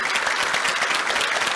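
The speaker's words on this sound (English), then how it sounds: "please give them a round of applause," A conference audience gives a brief, steady round of applause for a panel of physicians at a fraternity district plenary session, dense even clapping throughout.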